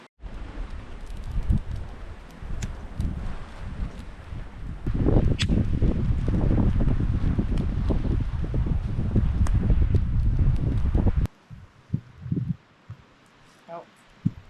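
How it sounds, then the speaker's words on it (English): Strong wind roars outdoors at a lakeside canoe campsite in Algonquin, a loud steady rush with buffeting gusts that drops away abruptly near the end, leaving quieter rustles and light clicks. "The wind is so intense it flipped my canoe."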